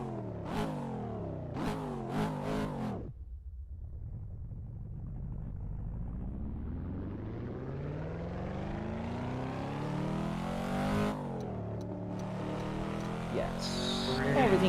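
A Cadillac car engine in a driving simulator video game revs through the gears, with a steady rumble that rises in pitch during a long acceleration, then drops and climbs again, loud and continuous.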